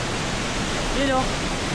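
Steady broadband roar of water pouring at Gabaldon Falls in the Sierra Madre foothills, a constant close wash filling the whole clip, with a brief faint voice rising over it near the middle.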